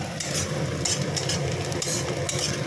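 Mashed potato stuffing frying in a pan with onion, green chilli and garlic: a continuous close sizzle with scraping and stirring of a utensil, no voices.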